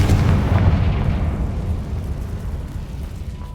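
A blasting spell in the Hogwarts Legacy video game sets off a loud, deep boom that rumbles and decays over a few seconds, with no talking.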